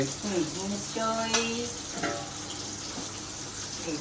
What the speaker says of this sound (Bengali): পাবদা মাছ ভাজা হচ্ছে